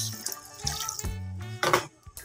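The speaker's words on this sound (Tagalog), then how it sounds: "lagyan natin ng konting tubig para lumambot yung carrots" Water poured into a pan of carrots during cooking, an uneven splashing and gurgling stream that starts, pauses and surges, close and fairly clear, with no talk.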